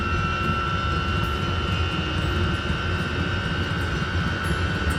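An RV diesel heater runs with a steady, broadband whirring drone and faint tonal hum, continuous and close, with no voices over it.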